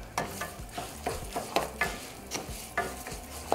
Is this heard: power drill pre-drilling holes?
no